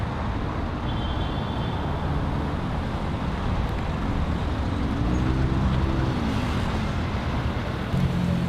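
Dense city traffic circling the Arc de Triomphe in Paris, a constant roar of engines and tyres with a rising and falling motor whine midway, steady and fairly close, with no voices.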